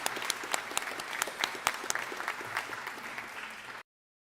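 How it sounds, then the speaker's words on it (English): An audience gives the panelists a warm round of clapping after an education discussion, a dense steady patter of many hands with sharp individual claps standing out, fairly quiet overall, ending abruptly in silence. "I just want to give one more round of applause to the panelists for sharing all their wonderful insight"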